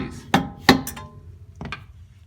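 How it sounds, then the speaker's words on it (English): Metal taps knock a bolt out of a Ford Mustang SN95 (1994-2004) suspension knuckle: two sharp, ringing hammer strikes close together, a lighter tap just after, then one more knock after a short pause, all near with no talking. "If it helps, you can use an extension to tap this bolt out."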